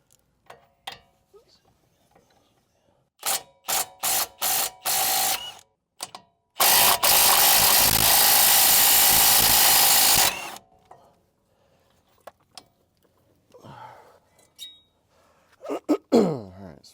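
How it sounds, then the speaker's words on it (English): An impact wrench spins out 19 mm brake bracket bolts on a 2017 GMC Sierra 1500 Denali truck, firing in several short loud bursts, then one long hammering run of about four seconds, with quiet shop sounds between. "then we should be able to use the impact to get those out"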